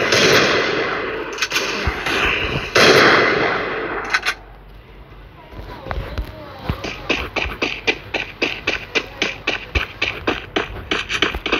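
Desert Eagle pistol fire in the Free Fire battle royale game: loud crackling bursts early, then a steady rapid series of sharp shots, a dozen or more evenly spaced, in game audio.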